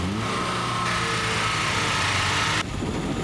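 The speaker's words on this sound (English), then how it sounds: "Give it a rev, see how it feels." A Mazda 323 in need of a tune-up revving, its engine holding a loud, rough, steady drone before the pitch drops back near the end.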